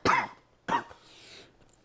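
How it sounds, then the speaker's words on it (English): Two close, fairly loud coughs in quick succession, the second trailing into a breathy exhale, with no talking over them. "I gotta get this cough checked out."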